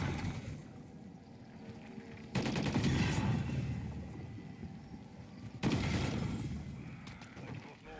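Gunfire from a Call of Duty Modern Warfare 3 Zombies game, fired to hit runes in a dark fantasy setting, with two loud bursts of shots standing out over a low, steady game ambience.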